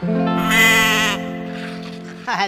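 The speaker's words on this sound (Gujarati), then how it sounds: "અરે અરે આ બકરા કોના છે ભાઈ? લઈ જાઓ." A goat gives one long, loud, wavering bleat close by, then a shorter, quieter cry at the end.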